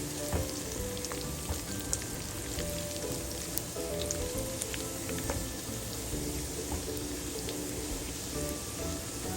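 Steady crackling sizzle of a tempering of garlic and red chilli frying in hot oil, continuous with scattered pops, close and moderately loud.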